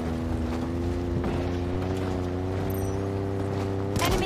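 An enemy Ghost hover vehicle in Halo Infinite hums with a steady droning engine tone, holding close and loud throughout with battle noise behind it.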